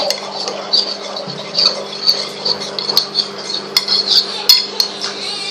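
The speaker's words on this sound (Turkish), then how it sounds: "Daha sonra iyice karıştır karıştır karıştır." A utensil stirs cake batter in a cup, giving quick irregular clinks and scrapes against the sides, close and fairly loud, with no talking.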